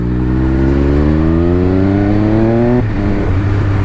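A Triumph Speed Triple RS motorcycle engine revs loudly and climbs steadily in pitch, then drops abruptly as the quick shifter snaps through an upshift. The engine pulls on strongly afterward.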